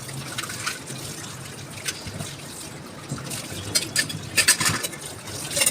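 Running water trickles and splashes while dishes are washed by hand in a home kitchen in the morning, with occasional clinks of utensils that grow busier toward the end; no one speaks.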